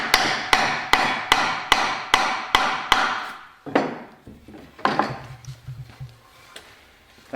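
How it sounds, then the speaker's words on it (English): A small hammer taps wood while a shave horse is being made: about eight evenly spaced, sharp knocks, followed by a few lighter, irregular taps and some handling sounds, close and clear. "Pass me that little wee hammer there"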